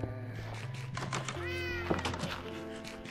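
Synthesized cat meows from Minecraft: PlayStation 4 Edition, several short, wavering cries in close succession with game clicks and thunks around them, fairly quiet.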